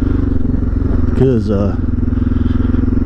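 A Suzuki DR650 motorcycle with an FMF exhaust idles with a steady rumbling engine note and loose valvetrain clatter throughout, while someone talks briefly over it.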